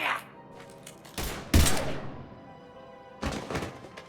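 Gunfire and heavy impacts in the video game Mass Effect 3, with a loud burst around the middle and another at the end, set against a bed of game sound and effects.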